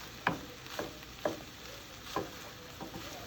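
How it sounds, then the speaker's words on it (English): Simmering ground-meat empanada filling stirred in a pan, five or six distinct scraping strokes at an uneven, unhurried rhythm over a soft background sizzle, close and fairly quiet. "now after we let the meat simmer for a little bit, you want to mix it up"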